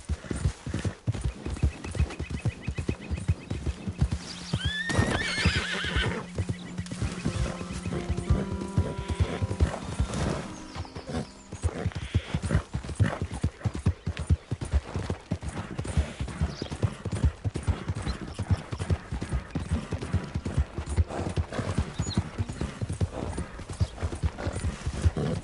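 Horse galloping in Red Dead Redemption 2, with steady, loud clip-clop hoofbeats running the whole way, a whinny early on and a brief line of speech.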